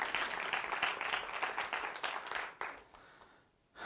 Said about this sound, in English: We'll clap for Gonzaga.